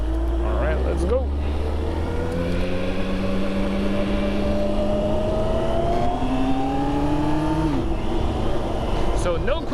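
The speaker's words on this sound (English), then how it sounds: "Let's go and ride this bike." A 2025 Kawasaki Ninja ZX-14R motorcycle rides off, its engine revving and climbing in pitch through several gear shifts, loud and close with wind noise, without a quick shifter.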